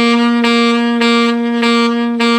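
Saxophone holding one sustained note with ghost-note articulation, the tone briefly dipping and re-attacked in an even rhythm of soft tongued pulses, close and alone.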